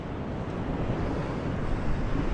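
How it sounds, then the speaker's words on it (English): Steady, low rumbling wind on a beach buffeting the microphone, a continuous roar with no pauses. "Too windy."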